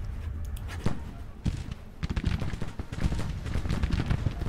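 Musket and rifle volleys in a Civil War battle from Grand Tactician, scattered sharp cracks and crackling bursts, some near and some distant, with footsteps and faint voices mixed in.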